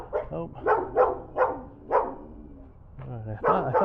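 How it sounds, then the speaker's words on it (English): Several dogs bark in a neighborhood in Guanajuato, Mexico, with a series of sharp, separate barks at mid distance, a brief pause, then more barking, some overlapping with a voice. "I thought it was 3 dogs, but it's 4 dogs"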